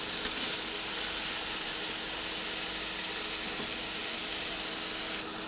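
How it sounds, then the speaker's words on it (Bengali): Carrot and capsicum sizzling steadily as they fry in a pan during stirring, a continuous hiss with only a faint scrape or two near the start and no talk. "এইভাবে কিছুক্ষণ নাড়াচাড়া করে করে এটা ভেজে নেব"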